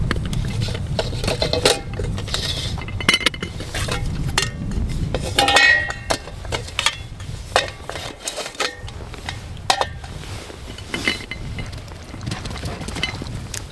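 Metal parts of a Trangia Storm camping stove clinking and clattering as they are handled and fitted together outdoors by a lake, in close, irregular bursts of knocks and rattles with no talking.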